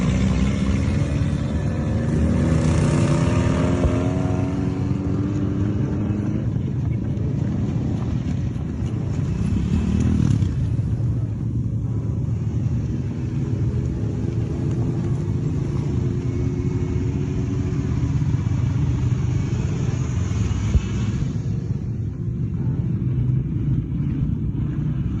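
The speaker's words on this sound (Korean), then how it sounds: "AK-47을 든 사람들이 오토바이를 탑니다." Motorcycle engines drone and rumble continuously, several bikes carrying armed riders passing with rising and falling revs.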